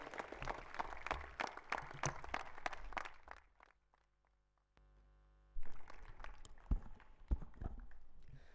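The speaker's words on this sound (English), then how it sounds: "May we have a huge round of applause for Keshav Mittal" Audience clapping at the Constantia 2024 opening ceremony bursts out in a dense run of claps, drops to near silence, then returns in a scattered, uneven patter.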